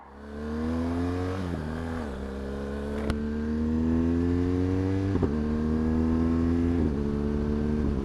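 Motorcycle on new Metzeler Roadtec 01 tyres riding on dry roads, a steady engine drone with rising pitch through the gears and brief dips at shifts, close and continuous with no talk.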